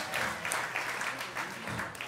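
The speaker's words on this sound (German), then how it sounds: "Einmal Applaus nochmal für das junge Volk" Audience applause at a youth rap battle semifinal in 2016, steady clapping from a crowd with faint voices mixed in, moderately loud and continuous throughout.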